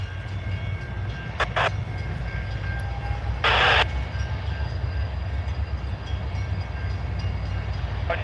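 A CSX freight train rolls slowly around a corner in Alabama, heard as a steady low rumble of railcars with a few brief metallic squeals and clanks. The sound is close and continuous.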